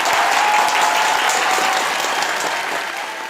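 Applause rises from an audience at a Minang comedy show, a thick continuous wash of clapping that fades slightly toward the end.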